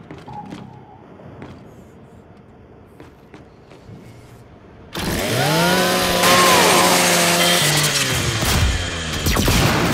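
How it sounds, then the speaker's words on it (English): Chainsaw bayonet on a Lancer rifle in Gears 5 revs up loud and steady after a quiet stretch, its whining engine pitch rising and falling as it cuts into a custodial robot unit. "do me a favor and scrap that custodial unit for me. Just use your Lancer's chainsaw."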